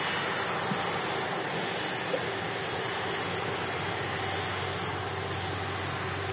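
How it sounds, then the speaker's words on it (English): An Icelandair airliner taxiing at Manchester Airport gives a steady, continuous jet engine roar, broad and even throughout at moderate distance, with no talking. "You keep an eye out for that Icelandair taxiing in Matty Boy."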